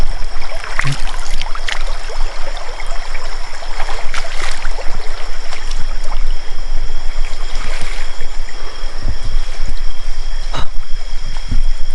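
Stream water flows steadily and loudly outdoors along a path, a continuous close rushing wash that fills the whole stretch with no pauses.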